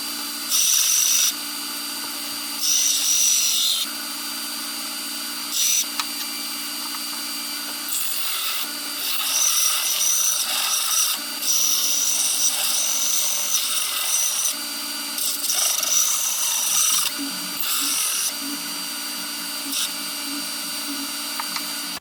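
Improvised surface grinder grinding a square forge press die, a harsh high whine in repeated bursts of about two seconds each with short pauses between, loud and close with no talk.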